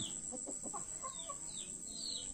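Soft clucking from a few native chickens, short chirpy calls scattered over a steady background hiss, fairly close.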